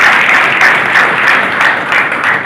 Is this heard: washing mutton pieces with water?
no